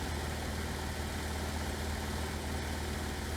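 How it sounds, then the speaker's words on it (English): A Luscombe light aircraft's engine idles steadily, a constant low droning hum heard up close without breaks or rev changes. "We are idling."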